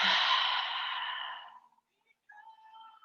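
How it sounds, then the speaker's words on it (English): A slow, deep exhale through the mouth during a yoga breathing exercise, a long close breathy rush that fades over about a second and a half, followed by a few faint thin tones. "And exhale through the mouth."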